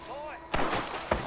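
Gunfire in the Western shooter Red Dead Redemption: two sharp, loud shots about half a second apart, following a brief tonal in-game sound.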